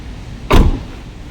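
A single short, loud thump from a Ferrari supercar door in a showroom, sharp at the start and dying away within a fraction of a second, with quiet background before and after.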